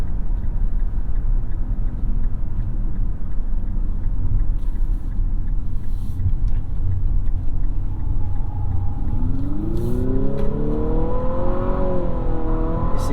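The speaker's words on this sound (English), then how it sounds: "Lots of simulated shifts there to make it seem like it's an actual automatic transmission." Hard acceleration in a 2022 Infiniti QX55, the engine drone climbing and dropping in pitch through several simulated gear shifts, loud and continuous from inside the cabin.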